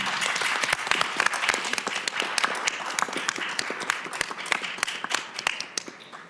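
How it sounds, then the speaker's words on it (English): An audience applauds a panel at the close of a talk, with many hands clapping in a lively, dense burst. Sharp individual claps stand out near the microphone, then the clapping gradually thins toward the end. "please join me in giving this wonderful panel a round of applause."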